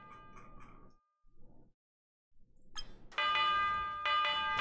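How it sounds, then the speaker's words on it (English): A tiny bell rings in the physics sandbox game People Playground, producing a bright, sustained metallic chime that sounds twice near the end after short bursts of other game noises. "What about a tiny bell?"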